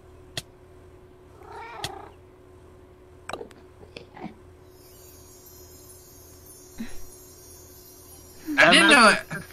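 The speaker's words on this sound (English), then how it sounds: "Anyway, there's a cat." A cat lets out a short meow early on and then a loud, drawn-out wavering meow near the end, with scattered clicks and a faint steady hum in between.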